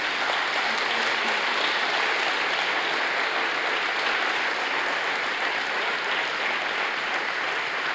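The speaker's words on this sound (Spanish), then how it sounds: "denle un fuerte aplauso a Jesús por eso" A church congregation at a Thursday worship service applauds in praise, a long, sustained roar of clapping that stays steady and full throughout without speech.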